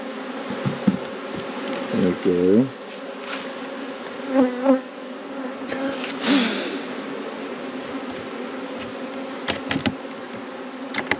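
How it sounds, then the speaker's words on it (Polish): Steady buzzing of many honeybees close by on a hive roof, a dense droning hum with individual bees flying past, louder swells here and there, no talking. "Dużo pszczół na daszku."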